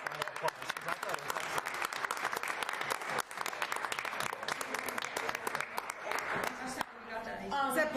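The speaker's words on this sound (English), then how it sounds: "I'm going to give you a round of applause" A round of applause at a school committee meeting, sustained crisp clapping from a modest group in a room, fairly steady throughout, with voices over it as it ends.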